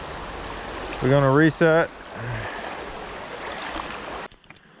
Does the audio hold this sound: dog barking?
no